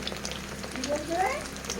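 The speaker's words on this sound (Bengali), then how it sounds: "আর একটাও ছেড়ে দিয়েছি, দেখুন এটাও ভাজা হোক" Snack dough frying in hot oil, a steady soft crackling sizzle with bubbling throughout, close up, and a voice talking faintly over it.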